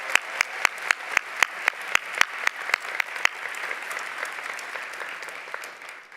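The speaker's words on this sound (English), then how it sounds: "Give yourselves a round of applause." Applause from the audience at a School of Public Health commencement ceremony, with a few sharp nearby claps ringing out over a broad crowd wash that gradually thins and fades.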